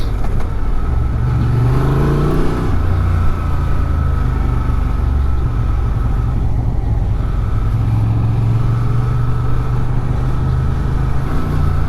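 A 2023 Honda Transalp XL750 motorcycle riding in third gear at about 30 mph, with a steady low engine drone and heavy wind rumble throughout and a brief rising note early on.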